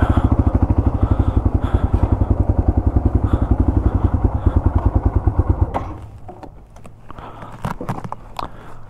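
Yamaha TW200 single-cylinder dirt bike engine thumping with a loud, fast, steady beat for about six seconds, then dropping to a quieter idle with scattered knocks and clatter.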